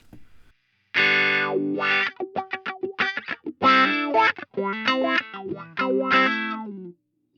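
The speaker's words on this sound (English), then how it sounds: "this is the wah in front" Electric guitar played through a wah effect on a Line 6 Helix, with distorted, chorus-tinged phrases of sustained notes and quick picked runs. The tone sweeps as it rings out loud and close, with no talking.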